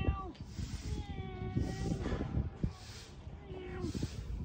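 A small kitten meows repeatedly up close, several rising and falling cries in quick succession against a busy background at an alpaca farm.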